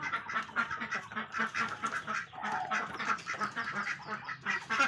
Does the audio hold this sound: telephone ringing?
no